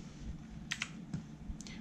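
A few quiet clicks of the Escape key and other computer keyboard keys while playing a racing game, spaced unevenly over a low steady hum, with no speech.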